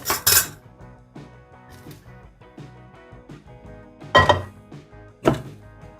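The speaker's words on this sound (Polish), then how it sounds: "Musimy odcedzić bób, który już się ugotował." Cooked broad beans drained in a kitchen, with a few sharp metallic clanks of pot and strainer at the start and again near the end, and faint clinking and rattling in between.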